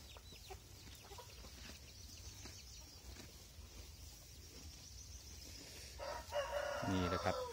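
Chickens and a rooster on a farm with cattle, faint and distant under steady outdoor background noise, with a louder crow or cackle near the end.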